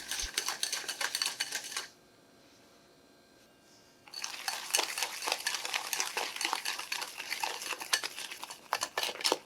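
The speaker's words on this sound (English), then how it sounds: "using a whisk just mix this mixture together until the mixture becomes a bit whiter and fluffier" A whisk beats butter and sugar together in a bowl with rapid, rhythmic metallic clicking and scraping against the sides, close and loud, pausing briefly for a couple of seconds before resuming, with no talking.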